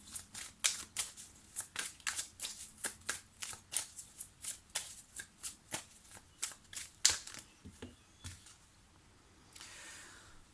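Amethyst oracle cards being shuffled for a reading, a rapid even series of crisp riffling card slaps close by, ending in a softer sliding rustle, with no talk.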